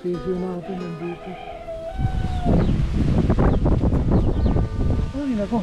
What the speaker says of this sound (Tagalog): Ay nako, lakas ang hangin.